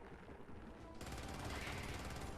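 Sentry turret machine gun fire in the Helldivers video game, a dense continuous burst of rapid shots that grows louder and fuller partway through and keeps going to the end.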